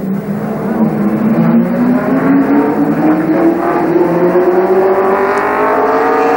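Race car engines drone loudly and continuously on an oval track, pitch rising steadily as they accelerate after the green flag, a dense roar without pause.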